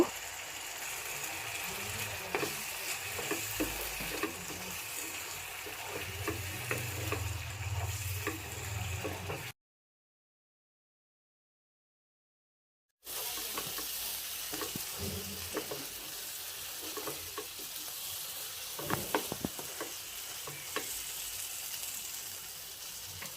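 Chicken bhuna spices with tomato sauce stir-fried in a pan, steady loud sizzling with repeated spatula scrapes, broken by a few seconds of silence before the frying and stirring resume.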